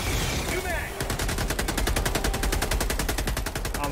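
Rapid automatic gunfire in Helldivers 2 aimed at an armored bug, a steady fast stream of shots after a brief noisy lead-in, loud and continuous until the end.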